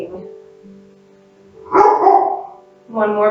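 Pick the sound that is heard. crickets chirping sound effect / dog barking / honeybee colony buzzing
dog barking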